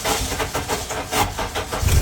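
An Acura K24 engine with a failing starter tries to crank in a few short, rough pulses, close and moderately loud, with a heavier thump at the end.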